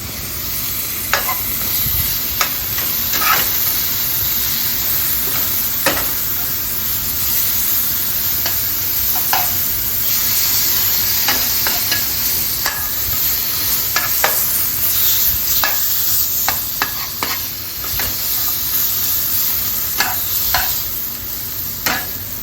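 Garlic sautés in a pan while steak is being cooked, giving a steady loud sizzle with repeated scraping stirs and utensil clicks, and no talking.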